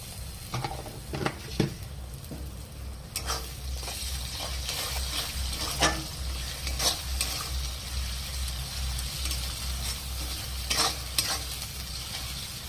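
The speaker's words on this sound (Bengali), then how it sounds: "এবার মশলাটাকে ভালো করে ভেজে নেব" A spice masala of ginger-garlic paste, salt, chilli powder, turmeric and chopped tomato fries in a pan. A steady sizzle runs throughout, broken by repeated sharp scraping clicks of the spatula. It is moderately close, with no talk.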